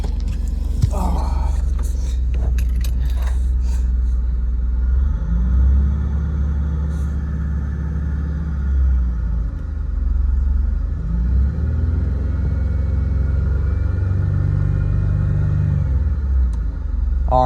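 A 2001 Buick LeSabre engine idling with a low steady rumble, rising in a few slow revs that swell and fall back, heard up close with a brief voice at the start.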